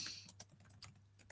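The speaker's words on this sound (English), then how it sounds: "just trying to type and write at the same time" Rapid typing on a computer keyboard, a quick irregular run of light key clicks close by, fairly quiet and alone.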